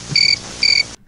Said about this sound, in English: How do you not have the crickets drop queued up?